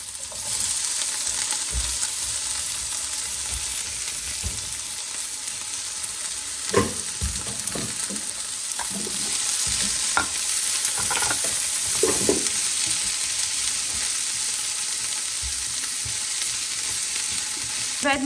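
Chopped onion fries in a pan for a minced-meat lasagna, a steady close sizzle with scattered spatula stirs and scrapes, no voices present.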